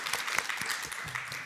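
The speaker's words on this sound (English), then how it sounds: "I think you really we owe you some applause for that." Brief, fairly quiet burst of audience applause at a closing museum conference roundtable, a short patter of clapping from a seated crowd.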